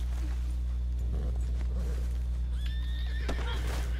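A horse whinnies in a high, shrill neigh in the video game Red Dead Redemption 2, with clip-clopping hooves and a low steady hum underneath.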